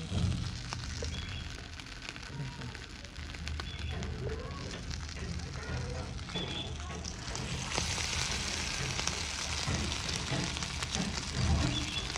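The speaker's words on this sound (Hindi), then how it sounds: "अभी मैं यही तलूंगी" Chinese cutlets fry in hot oil, producing a loud, dense, crackling sizzle that fills the whole stretch, while someone talks over it.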